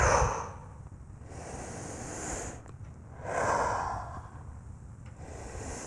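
Slow yoga breathing during a floor exercise, with two broad, airy inhale-exhale swells a few seconds apart, close and soft, with no talking.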